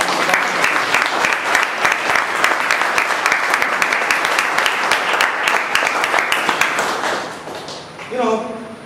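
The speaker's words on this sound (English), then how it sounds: "A big round of applause for this awesome team" Loud, sustained applause from a crowd, dense clapping for several seconds before it fades out, with a voice beginning to speak at the very end.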